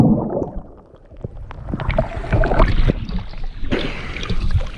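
Sailing boat motoring under engine across a calm Andaman Sea, with steady engine drone and water rushing along the hull, fairly loud and continuous with splashing surges.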